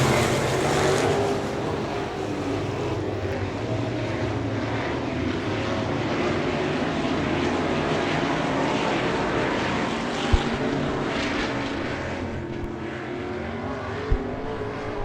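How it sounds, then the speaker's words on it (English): Midwest Mods race cars roar around a dirt track at Victory Lane Speedway in Manitoba during a heat race, a dense, continuous engine drone at a distance with no breaks. "8 laps to go here in the first of 3 heat races for Midwest Mods"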